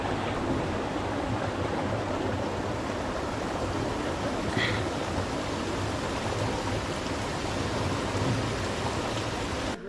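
River water rushing steadily in a Meghalaya jungle on a trek to the double-decker root bridge, a dense continuous broadband roar close by with no pauses and no voices.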